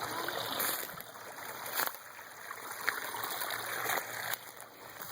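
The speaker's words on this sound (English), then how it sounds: "This is a natural flowing stream right here at Carpenters Dam." A natural stream at Carpenters Dam Park in Hot Springs, Arkansas, flowing over a small waterfall, gives a steady, close rush of trickling and splashing water with no speech.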